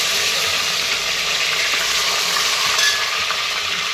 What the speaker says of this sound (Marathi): चला आता आपण हांडीमध्ये तेल टाकून घेतलेलं आहे पान टाकूया आता थोडीशी अशी कापलेली कोथिंबीर